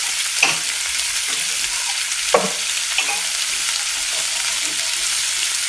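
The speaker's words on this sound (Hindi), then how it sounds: "हल्का सा चम्मच हिला देते हैं ताकि हमारा जो लहसुन है ये जले नहीं।" Garlic and whole red chilies fry in hot oil for restaurant-style daal mash. A constant sizzle runs under a few scraping strokes of a spoon stirring the pan.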